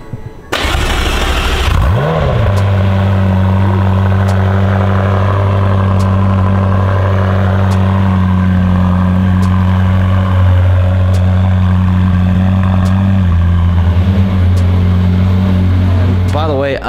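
A Lamborghini with its wide body fenders removed idles steadily in a low, even rumble, close up, with the engine note shifting slightly partway through and no talking.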